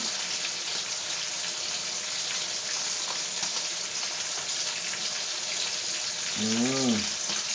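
Fish fries in a pan on a stove, a dense, steady sizzle and crackle held close throughout, with a brief voice-like tonal sound near the end.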